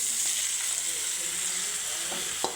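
Bottle gourd peels fry in hot oil with onion, chili, salt and turmeric, giving a steady close sizzle with a couple of sharp stirring clicks near the end.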